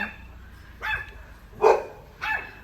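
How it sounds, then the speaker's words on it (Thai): A dog barks at a family's newly arrived 2013 Suzuki Ertiga parked at home, three separate loud barks spaced evenly apart, close by and alone with no talking. "โอ๊ย หมาเห่าไม่อยู่เลย หมาจำรถไม่ได้"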